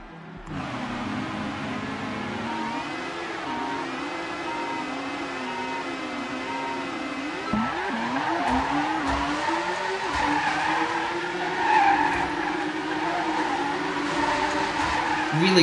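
A race car speeds around the Midnight GP track in the Dreams video game, its engine whining and rising and falling over a long stretch. Tires squeal and skid repeatedly and a music track plays underneath.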